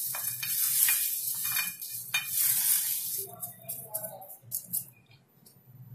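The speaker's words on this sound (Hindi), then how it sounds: "इसके ऊपर मैं भुजिया डालूंगी, बिकानेरी भुजिया। हल्का मिक्स करूंगी।" Spoon stirring chivda namkeen with Bikaneri bhujiya in a pan, a dry crisp rustling and scraping that is fairly close, then light clicks and taps as the mixing slows and fades.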